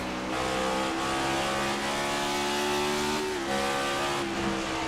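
A race car engine at Bristol in a racing game, loud and close, holding a high revving drone with shifting pitch as gears change, tire noise mixed in, steady throughout.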